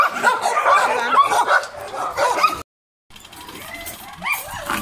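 Dogs at an animal shelter barking and yipping as they are loaded into transport boxes, busy overlapping barks, a brief silent gap, then quieter whimpers and yips.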